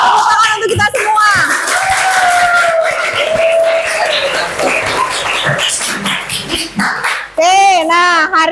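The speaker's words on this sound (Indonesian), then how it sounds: "Tepuk tangan untuk kita semua" Clapping from a group, likely a class or workshop audience, mixed with cheering and excited children's voices, fairly close and continuous, with a fresh burst of shouting near the end.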